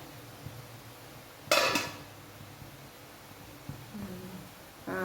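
A lid is lifted off a simmering pot of fish curry with one short metallic clatter. A softer clink follows near the end, over a quiet, hissy kitchen background.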